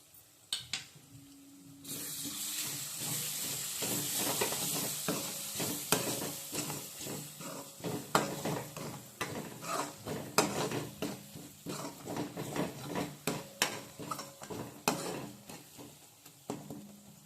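Spices frying in a tomato masala in a pan, with a steady sizzle underneath and the repeated scrape and clatter of a spoon stirring against the metal, close and moderately loud, with no voices.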